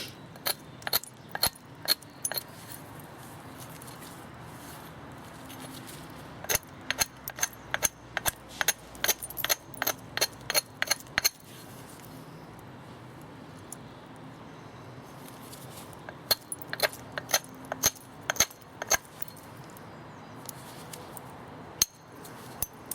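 English flint being knapped into a large thin biface, sharp glassy clicks and taps struck in quick rhythmic runs, close and crisp, separated by quiet pauses.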